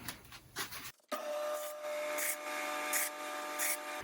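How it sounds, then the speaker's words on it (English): Heated knife slicing through a foam pool noodle, a brief rough rub, a short pause, then a steady buzzing hum with periodic brighter scraping bursts as the blade moves through the foam. "If you don't have a bandsaw, but you do have a heat knife, you can cut your pool noodle up with that."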